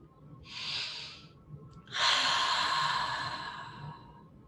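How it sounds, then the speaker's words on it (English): A slow deep breath in guided meditation: a short airy inhale, a pause, then a longer, louder exhale that trails off, close and alone without talk. "Let's take a deep breath."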